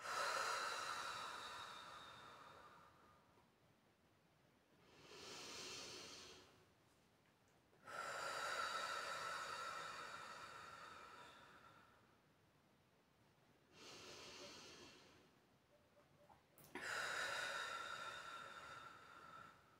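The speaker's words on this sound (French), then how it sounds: "On inspire par le nez et on expire par la bouche." Three slow, deep breaths drawn in through the nose and released through the mouth during a guided relaxation, each long airy inhale and exhale close and quiet, separated by pauses.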